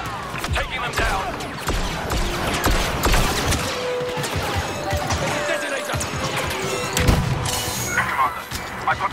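Blaster fire rattles through a firefight in Star Wars Battlefront 2, dense overlapping shots and crashes with voices and game effects mixed in throughout.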